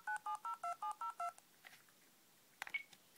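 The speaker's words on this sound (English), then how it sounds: "it drowns out the DTMF tones" A Casio DBA-800 dialler watch plays eight short, evenly spaced DTMF beeps held to a phone, followed by faint clicks and a brief electronic chirp.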